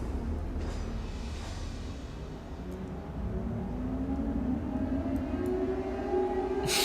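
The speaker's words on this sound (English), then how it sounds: "turning off the generator turns on the fucking air raid siren" In the frozen city of Frostpunk 2, an air raid siren winds up slowly and keeps rising in pitch over a steady low rumble, growing louder toward the end.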